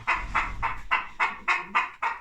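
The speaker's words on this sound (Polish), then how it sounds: "teraz mi będzie tutaj kura" A laying hen clucks close by in a steady series of about eight short, evenly spaced clucks, with no talk over them.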